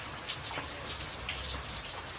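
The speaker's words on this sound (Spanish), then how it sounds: "La lluvia golpeaba las tejas con furia" Rain falls on roof tiles as a dense, even hiss of drops with soft patters throughout, steady and moderately quiet, with no voices.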